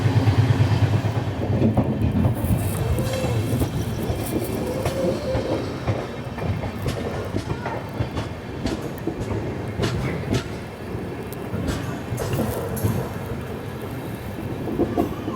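The Mumbai Ahmedabad Double Decker Express runs steadily on the railway, a loud continuous rumble with rhythmic clickety-clack of wheels over rail joints and occasional metallic squeals, heard from on board with no talking.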